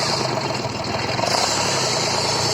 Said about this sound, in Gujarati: હવે અમે ટ્રેક્ટર ચાલુ કરીને જઈએ છીએ.